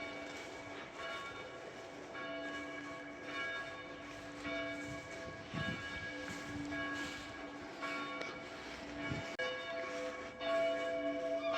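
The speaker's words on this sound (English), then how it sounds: "For whom the bell tolls." A church bell tolls near an old graveyard, its long ringing tones sustained and layered with a few stronger strikes, heard from a distance over quiet outdoor background without talk.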